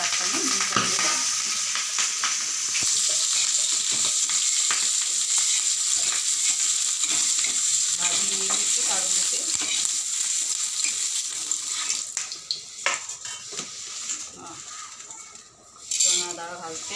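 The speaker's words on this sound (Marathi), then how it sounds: "बघा आता घालते मिरची, गॅस कमी करायचा मिरची टाकताना।" Green chilies hit hot oil in a pan over lowered gas for a Marathwada-style chicken, giving a loud, steady sizzle with frequent metallic scrapes and clinks of a spoon; the frying thins and grows uneven near the end.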